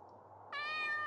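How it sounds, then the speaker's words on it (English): A cat meows in the video game Urma, a single clear, tonal meow starting after a brief quiet pause and held to the end, with no talk. "I saved again because I wanted to hear the cat noise"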